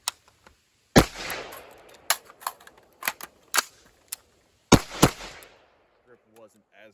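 Rifle shots at a shooting range, several sharp loud cracks spaced irregularly with brief gaps, followed by faint handling clicks and a short voice at the end.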